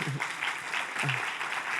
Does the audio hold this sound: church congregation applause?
yes